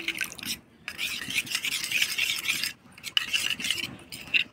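Ground cumin, coriander and chili powder are mixed with water in a small bowl, giving a close, rhythmic scraping and swishing of a spoon against the vessel, with a few short pauses between strokes.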